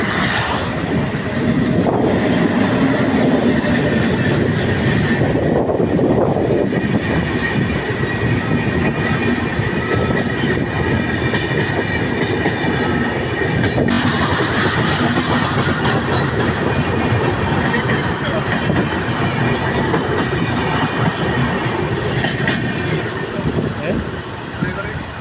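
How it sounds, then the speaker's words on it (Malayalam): A Vande Bharat express train approaches with a loud, continuous rumble and a rhythmic clatter of wheels on rail. Faint squeals come and go throughout, and people speak now and then over the noise. "ഇങ്ങോട്ട് വന്ദേ ഭാരത്."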